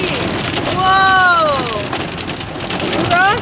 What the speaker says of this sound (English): Look at the hail. Big old hail.